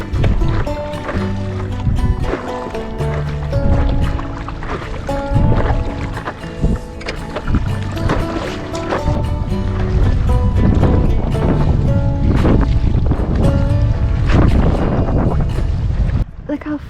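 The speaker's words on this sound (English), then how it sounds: "The wind is like pushing the water." Wind pushes water against and around a paddleboard at Knoydart, with steady gusty wind buffeting the microphone and sloshing water beneath it, loud and continuous throughout.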